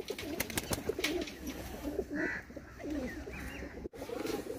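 A Teddy Golden Cross pigeon in Sialkot coos in soft, rhythmic, low throaty phrases close to the microphone, with a few sharp clicks and a brief higher chirp among them and no talking.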